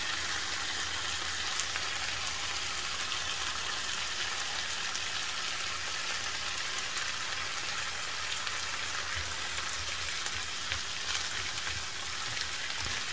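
Diced tomatoes and spices sizzle steadily in a hot pan for an ojja merguez, a continuous loud frying hiss with faint stirring scrapes and no talking.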